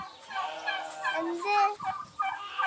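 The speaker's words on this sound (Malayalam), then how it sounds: "ഇതാ മറ്റേ ടർക്കിക്കോയി" A turkey on an organic farm in the UAE gobbles in several rapid, warbling bursts, loud and close.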